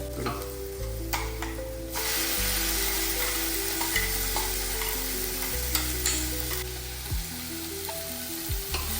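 Sliced tomatoes dropped into hot oil in a frying pan for chicken majboos, giving a steady, close sizzle with occasional stirring scrapes and clinks.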